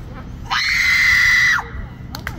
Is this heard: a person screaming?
yes